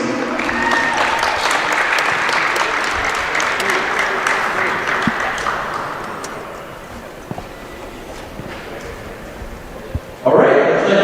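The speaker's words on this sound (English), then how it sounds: "A round of applause, ladies." Crowd applause at a high school basketball all-star game in Ontario, greeting the starting players of a junior varsity team; sustained clapping and cheering fill the gym for about ten seconds, easing off near the end before a louder burst.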